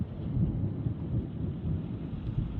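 Thunder from a lightning storm over the Belledonne massif rolls on in a continuous low, heavy rumble, fairly close, with the hiss of rain beneath it.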